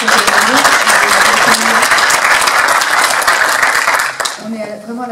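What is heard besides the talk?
audience applause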